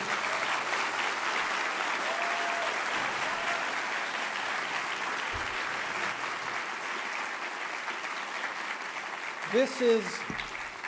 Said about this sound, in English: Can I have that round of applause once again?